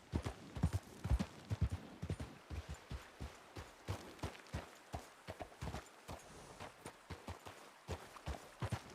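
Horse hooves clip-clop steadily in a Red Dead roleplay game, a rapid, even rhythm of close, crisp hoofbeats running the whole time, with faint voice murmur behind.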